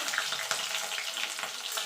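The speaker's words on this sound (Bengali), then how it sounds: "আলুগুলোকে লাল লাল করে ভেজে নেব।" Potatoes frying in hot oil for a vegetarian jackfruit curry give a continuous close crackling sizzle with small pops and light stirring, with no talking.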